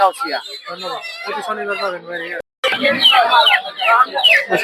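Medium-sized tiger chickens at a poultry market in Putia, Narsingdi, clucking faintly in the background beneath a man's loud, continuous talking.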